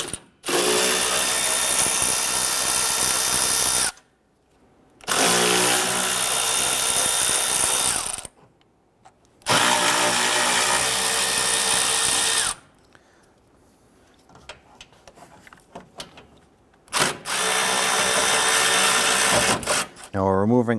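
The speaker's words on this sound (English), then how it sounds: "There's a series of 10mm bolts we're going to go ahead and remove." A power tool whirs in four long sustained runs, loud and close, backing out 10mm bolts from a Toyota Camry upper radiator support, with quieter gaps of clicks and handling between bursts.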